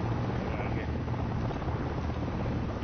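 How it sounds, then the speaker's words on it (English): A military helicopter in the video game Project Reality approaches with a steady, loud rotor drone that stays constant throughout, while players talk over it. "Helicopter coming in."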